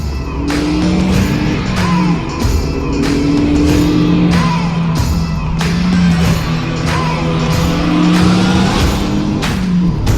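Renault Megane Trophy R hatchback driven briskly on cold, damp country roads, its engine loud and close, repeatedly revving up and dropping with gear changes and throttle lifts through corners, with no talk over it.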